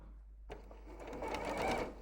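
A sewing machine starts up and stitches ribbon loops in one short, quick mechanical burst, with a faint low hum underneath.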